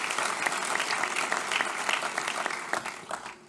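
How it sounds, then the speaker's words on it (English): A crowd at a high school scholarship night applauds performers from a middle school honors concert, with close, distinct clapping that stays strong, then thins out and tapers off near the end. "How about a big round of applause for our talented performers?"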